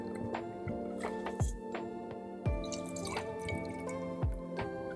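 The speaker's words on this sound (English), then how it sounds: "Crack them into a bowl and add 60 ml of meat broth for extra depth of flavor." Three eggs are cracked into a bowl and meat broth is poured in, giving soft, close drips and wet squishes, with a few sharper taps in an irregular rhythm.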